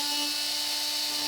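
An oscillating multi-tool cuts wood for an electric door strike installation, giving a steady, close, high-pitched buzzing whine with no pauses over a short stretch.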